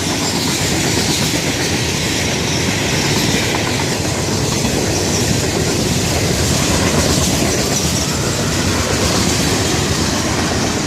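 FEC freight train with Conrail hopper cars rolling past close by, a steady loud roar of wheels with clickety-clack over rail joints and faint wheel squeal, continuous throughout.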